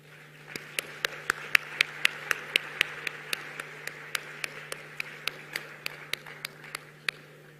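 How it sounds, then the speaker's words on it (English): Sparse, distinct hand claps ring out at a formal African Climate Summit gathering, a slow irregular run of sharp individual claps over a steady low hum, fairly faint and distant. "A warm round of applause there as well."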